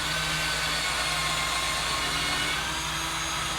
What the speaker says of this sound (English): you drill 2 holes